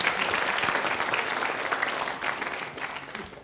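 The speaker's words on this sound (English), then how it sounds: "A little applause for Stu." A crowd at an event breaking into applause, many hands clapping in a dense, steady patter throughout, close and lively with slight swells near the end.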